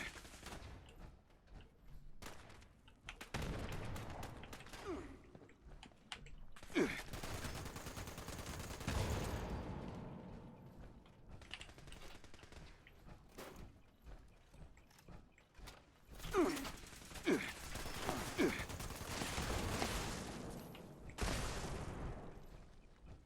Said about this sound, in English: we're going to use some 50 cal ammo up today